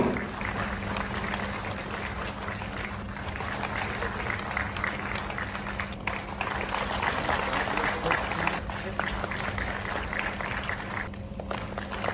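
An audience applauds award recipients at a Lok Kalyan Divas ceremony, with sustained, even clapping from a sizeable crowd that continues steadily throughout.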